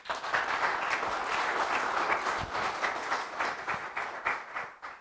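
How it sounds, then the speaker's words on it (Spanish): Audience applause for a speaker at a talk on a new Antioquia railway project in Colombia: a steady, dense wash of clapping from a sizeable crowd that runs the whole stretch before thinning slightly at the end. "Para él un aplauso entonces"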